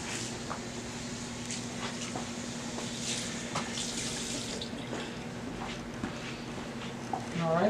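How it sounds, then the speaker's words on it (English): A care worker runs water at a sink or faucet to wash a dependent resident's hands before a meal, with a steady stream of running water and some light clatter in the background, and a voice is heard briefly. "I am going to wash Emily's hands before she eats"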